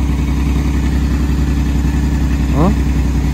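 A Suzuki minivan engine idles steadily and loudly up close with a low, even hum, and a brief chirp cuts in near the end.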